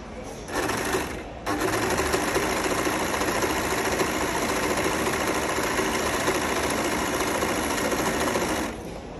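A Singer Heavy Duty 14HD854 overlock machine runs a short stitch in one steady, fast mechanical whir, starting after a brief pause and continuing close and loud for about eight seconds before stopping.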